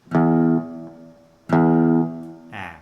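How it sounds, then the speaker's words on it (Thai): Two short, low notes on a guitar's open sixth string, each muted by a finger quickly after plucking, then a faint scrape of fingers on the string, from the intro of Have You Ever Seen The Rain, close with no talking. "พอเราดีดปุ๊บให้เอานิ้วนะครับ มาแตะที่สาย6ให้เสียงมันหยุด ให้สั้นนะครับจะเป็นอย่างนี้นะ"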